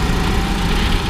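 A racing kart engine drones steadily at high revs at a race start, loud and close, with a rough continuous buzz throughout.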